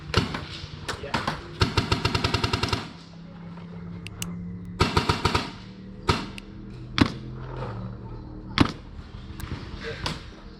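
A custom Planet Eclipse EMF200 paintball marker fires in rapid bursts of sharp pops, then scattered single shots outdoors, loud and close, with voices heard between the strings.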